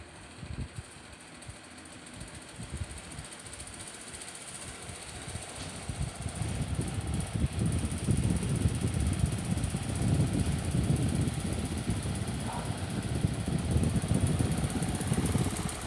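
An Xfort standing pedestal fan with an iron base runs steadily, a continuous whirring hum with faint mechanical rattling that grows louder after a few seconds and holds close to the microphone.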